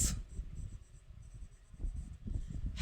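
Chalk or marker scratches across a classroom board during an English lesson, a run of short rubbing strokes close by, quiet between strokes and louder toward the end, no talking.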